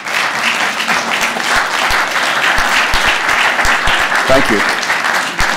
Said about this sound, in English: All right, you patients, give these guys a round of applause.